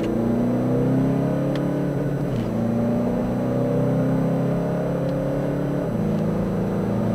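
Tuned Toyota Fortuner 2.4 diesel SUV pulling hard from second gear, a loud steady engine drone rising in pitch with a brief dip at a gear change, heard from inside the cabin with no talking.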